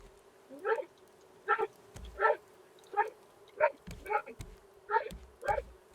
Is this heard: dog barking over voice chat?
yes